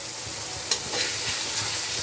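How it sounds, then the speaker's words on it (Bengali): Chopped tomato dropped into oily frying masala for Bengali masala khichuri, giving a brief, steady close sizzle with a couple of soft stirring scrapes. "এইবার আমি আমার টমেটোটা, কুচিয়ে রাখা টমেটোটা দিয়ে দিচ্ছি।"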